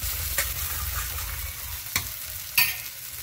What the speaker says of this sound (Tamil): இப்போ இதை வந்து நம்ம இங்கே வதக்கி வச்சுருக்கதோடு ஆட் பண்ணிக்கலாம்.